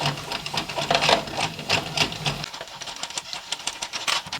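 A Sentro circular knitting machine cranked by hand gives a steady, close mechanical whirr with rapid rhythmic clicking that lightens partway through, with no talking.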